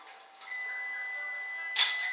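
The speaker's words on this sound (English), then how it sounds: "That's the timer for my meat pie." Kitchen oven timer for a meat pie sounding off with electronic beeps, a sustained tone that starts, holds, then swells into a louder burst near the end, nearby in a quiet room.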